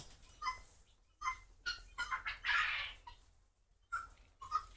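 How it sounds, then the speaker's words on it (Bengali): Chickens cluck and call in short bursts across a quiet poultry farm, with a low steady hum underneath and a brief lull midway. "দেখতে পাচ্ছেন আমার খামারের মুরগিগুলা কি সুন্দর"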